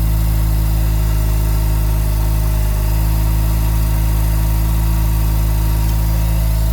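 A Mazda RX-7 Turbo II rotary engine idles steadily after a mid-winter cold start out of storage, a loud, constant low drone with a slight vibrating hum and no voices.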